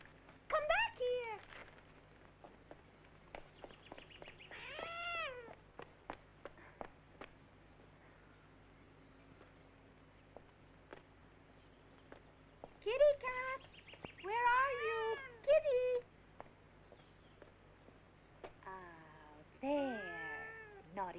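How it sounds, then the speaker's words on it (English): A cat in a 1980s thriller film meows repeatedly in short, high, rising and falling cries, spaced out over quiet stretches, with faint background noise between them. "She's a very naughty cat, don't you think so, Martha?"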